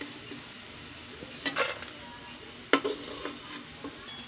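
Garlic frying in a pan until brown, a faint steady sizzle with a few sharp scrapes and clinks of a utensil stirring against the pan, heard close with no talking.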